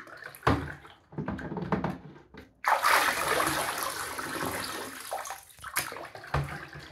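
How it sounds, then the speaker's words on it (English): Running water splashes and rinses through the dust cup of a Dirt Devil Endura Lite vacuum, a steady close gush of several seconds with shorter splashes and handling before and after. "doing this to rinse out the cup"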